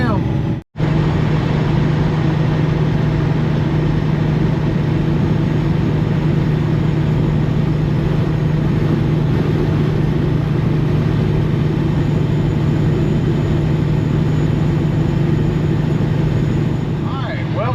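A dump truck's engine drones steadily while driving, a continuous low hum heard from inside the cab, with a brief dropout near the start and no other break.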